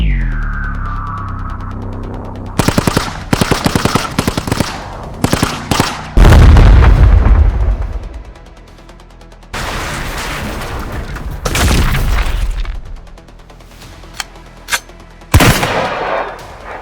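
Loud bursts of gunfire and heavy explosive booms from an animated sci-fi battle against Safeguard enemies, with rapid volleys, sustained blasts and pauses between them.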